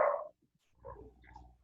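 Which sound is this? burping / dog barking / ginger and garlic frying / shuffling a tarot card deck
dog barking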